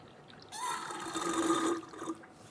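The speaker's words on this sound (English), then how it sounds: "we're going to use a tool like this to siphon out the old fluid out of the master cylinder" Brief liquid slurping and trickling as old brake fluid is siphoned from the master cylinder of a Buick Encore, lasting about a second and a half, fairly quiet and close.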